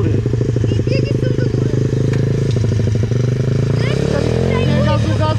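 A motorcycle on a riding lesson engages first gear and pulls away, its engine chugging steadily and loudly up close, while people talk over it.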